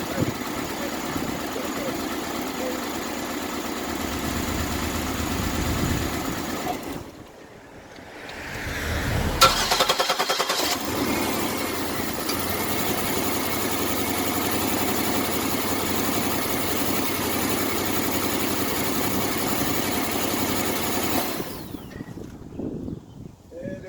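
A 2006 Buick Lacrosse engine idles roughly just after a starter replacement, a steady low rumble with broadband hiss that briefly dips and surges midway, heard up close with no talking.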